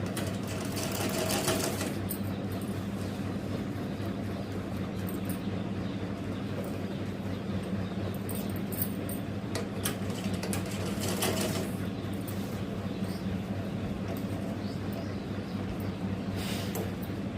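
A sewing machine hums and stitches steadily as a long frock with iron pleats is sewn, a continuous close mechanical whirr with rapid needle clatter throughout and no talking.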